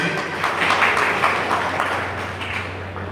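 Audience applause welcoming a guest at a TAMBRAS district function in Kumbakonam, a dense, steady patter of many hands clapping together, fairly loud and continuous throughout, with no speech over it.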